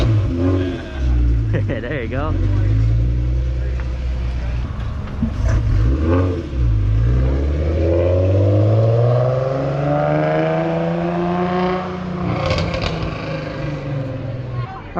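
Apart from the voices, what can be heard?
car with fried exhaust revving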